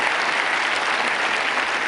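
Audience applause at a science lecture, a steady, dense wash of clapping from a crowd throughout, fairly loud and even with no talking over it.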